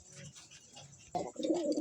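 Purebred Jacobin pigeons up for sale coo close by, a soft, rolling coo that rises sharply in the second half after quieter rustling.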